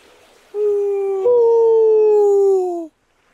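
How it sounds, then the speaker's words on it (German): Wild wolves howling outdoors, one long sustained howl rising then slowly sliding down in pitch, with a second higher howl joining partway through, clear and fairly close against a quiet background. "Ey, dieses Wolfsheulen."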